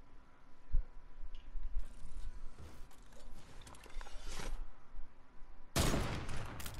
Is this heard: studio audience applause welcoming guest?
no